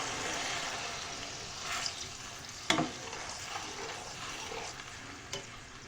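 Onion paste fries in hot oil with a soft, fairly quiet sizzle, punctuated by a couple of sharp clatters and utensil knocks as it is stirred.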